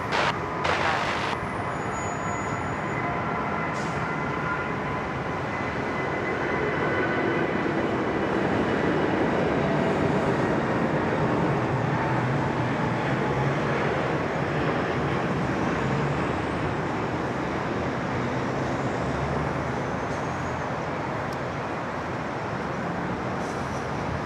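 An airliner takes off and rotates from a runway at Sydney Airport, producing a sustained, heavy broadband roar that swells slightly through the middle and fades a little near the end, with no talking.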